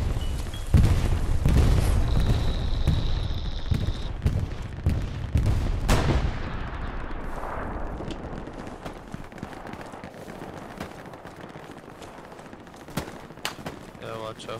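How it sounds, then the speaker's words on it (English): Enemy bombing run in the Hell Let Loose video game: heavy booms and dense gunfire bursts crash in fast succession, loudest early on and then thinning into scattered distant cracks. "I got an enemy bombing run coming down right now"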